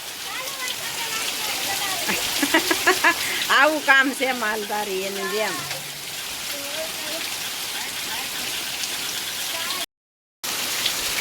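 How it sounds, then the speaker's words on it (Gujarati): Steady rain falls with wind over a farm, a dense, even hiss filling the whole stretch while someone talks over it up close. "તો જો આવી રીતનો વરસાદ છે"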